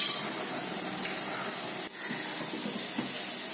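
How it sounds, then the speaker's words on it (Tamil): Steady, even sizzle of black gram frying in hot oil, a constant hiss that holds throughout with no voices. "கருப்பு உளுந்து போடுறேன்"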